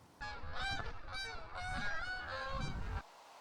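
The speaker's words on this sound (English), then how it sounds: "Got a load of Canada geese about to go over my head." A flock of Canada geese honks repeatedly overhead, loud and close, a chorus of overlapping calls that stops abruptly.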